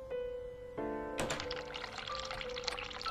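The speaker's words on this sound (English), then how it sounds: "Turn cold water on." Cold tap water gushes into a sink in the video game The Cat Lady. It comes in abruptly after a low tonal hum and runs as a steady, splashy stream to the end.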